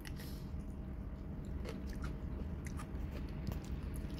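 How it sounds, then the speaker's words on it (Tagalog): Someone bites into crunchy, very sour pickles and chews with repeated moist crunches, close to the mic at a low level, with no talking. "Malutong yung pickles na sobrang asim."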